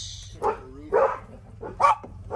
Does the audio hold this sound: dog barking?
yes